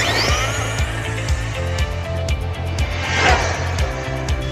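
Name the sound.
tuned radio-controlled car driving at speed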